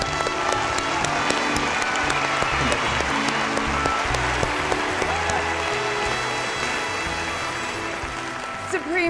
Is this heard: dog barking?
no